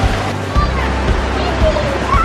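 River water flowing at a crossing on a waterfall hike, a steady broadband rush with low rumbling surges and splashes throughout, close and continuous, with a voice faintly heard over it.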